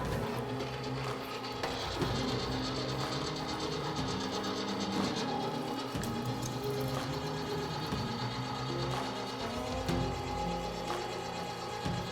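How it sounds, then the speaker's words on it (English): A meat grinder works steadily through carved pieces of game meat for bratwurst, giving a continuous mechanical whir and grind with rhythmic clicking and clanking from the auger, heard close and unbroken throughout. "just get the grinder fired up and turn it into smaller pieces"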